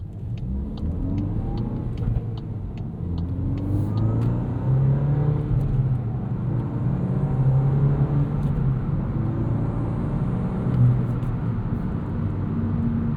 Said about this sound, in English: Some fun turbo noises here with this car.